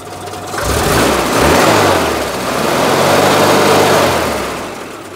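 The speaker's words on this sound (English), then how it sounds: "the flat four engine just sounds amazing at speed" A steady flat-four engine drone with electronic ignition rises and falls in pitch, smooth and continuous, as if revving gently rather than sitting at idle.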